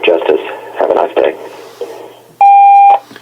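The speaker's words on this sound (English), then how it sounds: "sound of the tone, and I'll be glad to return your call as soon as possible" A voicemail greeting ends in a loud, steady electronic beep tone of about half a second, standing alone after a stretch of recorded speech.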